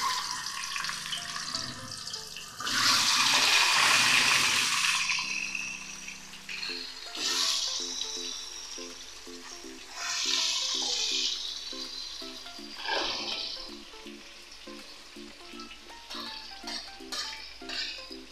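Eggs drop into hot oil in a pan, a loud burst of sizzling that settles into a quieter crackle, with clinks of utensils and faint pan sounds between further bursts.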